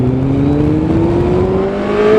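A 2011 Kawasaki GTR1400 Concours motorcycle engine held in second gear at about 30 mph, a steady close drone with a slowly rising harmonic hum under wind rush.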